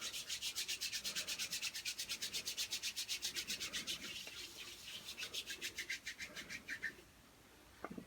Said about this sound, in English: use the hand sanitizer.